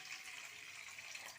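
Some water poured from a tap into a vada pan (vadai chatti) set on the stove, a soft, steady faucet-like stream running evenly throughout.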